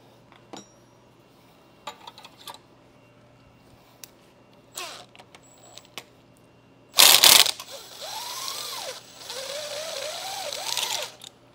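Working on a Zermatt Rim-X rifle action during a DPX bolt modification: faint mechanical clicks and scrapes, then a loud ratcheting burst followed by sustained grinding, creaking metal as the action is loosened.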